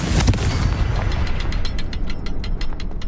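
A Confringo blasting spell explodes in the Hogwarts Legacy video game, a loud close boom followed by a rumbling tail and a quick series of crackling debris bursts fading out.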